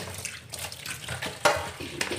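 Tap water runs in a sink while vegetables are washed, an uneven splashing rush with short louder bursts as the water hits them, and no one speaks.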